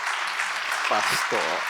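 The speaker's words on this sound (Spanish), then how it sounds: "Recíbanlo con un fuerte aplauso, por favor." A church congregation claps for a speaker during a sermon, a dense, even roar of applause throughout, with a voice briefly speaking over it near the end.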